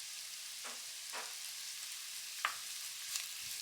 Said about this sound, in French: Et au bout d'une minute, à feu moyen, moyen fort, on rajoute nos champignons bruns